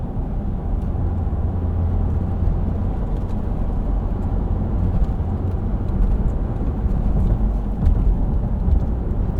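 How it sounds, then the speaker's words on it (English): A 2024 Lexus GX 550 Luxury Plus SUV cruising along a back road, its engine and tire rumble forming a steady, close, continuous drone with no talking. "It is still a fun SUV to drive around a back road."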